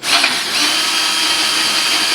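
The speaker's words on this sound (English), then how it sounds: "Got a new drill." A new power drill spins up and runs steadily, a loud, bright motor whine that holds constant for a couple of seconds without speech.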